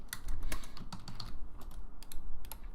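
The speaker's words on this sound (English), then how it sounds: "Quiet keyboard." Quiet computer keyboard typing with soft, irregular clicks in quick bursts, fairly close and alone with no talk.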